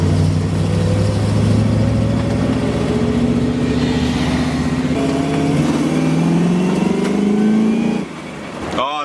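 The engine of a 1979 Chevy Camaro Z-28 after an engine swap pulls hard from inside the car, a loud rising drone that climbs steadily in pitch for about eight seconds before the throttle lifts and the sound drops away.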